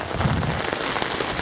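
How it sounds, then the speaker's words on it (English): Steady rain from Hurricane Irma falls on an Orlando property in September 2017 with little wind, a dense, even patter and splash filling the whole moment without any voices. "Not so much wind, but we are definitely getting the rain."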